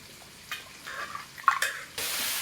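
Tamarind water splashes and pours in uneven spurts, ending in a steady stream of running liquid, while making sardine curry.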